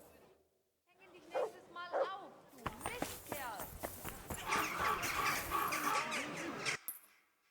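A dog barks a few times in Kingdom Come Deliverance 2, the sharp yelps fairly close, then giving way to a dense, busy stretch of overlapping game sounds and voices before fading out.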